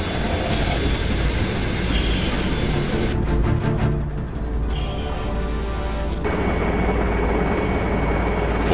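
Helicopter of the Indian Army Aviation Corps in a harsh high-altitude setting, a loud continuous engine and rotor roar with a steady drone that dips briefly midway before returning at full strength.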